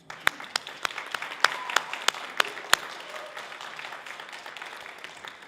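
Applause from the audience at a Master of Arts in Education hooding ceremony, a thin spread of claps with a few sharp close hand claps standing out, moderately quiet and steady for several seconds without speech.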